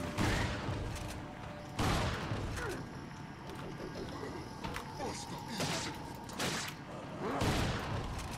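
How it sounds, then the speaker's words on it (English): Shotgun blasts in the video game Resident Evil 4, several loud booming shots spaced a few seconds apart amid game noise and clanking, with a player talking in between. "Shotgun."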